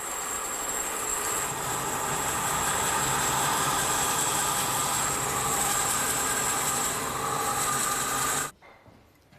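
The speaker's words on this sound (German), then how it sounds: "Das funktioniert am besten mit einer Bandsäge." A band saw at a woodcarving school cuts wood for a sculpture, giving a steady, loud, hissing whine that runs unbroken for several seconds and then stops abruptly.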